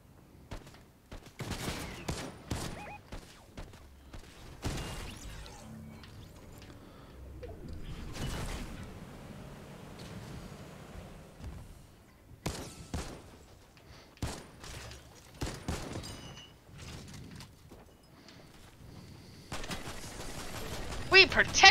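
Video game gunfire aimed at the player, with dense bursts of rapid shots and scattered single cracks recurring throughout, some close and loud, with voices talking over parts of the action.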